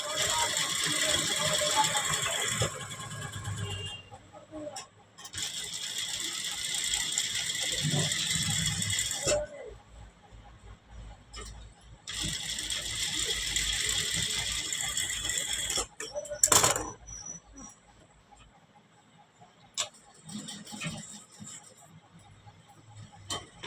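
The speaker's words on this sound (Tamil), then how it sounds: "உங்களுக்கு வீடியோக்காக மெதுவாக தைக்கிறேன்" Sewing machine running slowly while stitching a patch onto the back neck of a blouse, in long steady whirring runs broken by pauses, a short clack and quieter handling near the end.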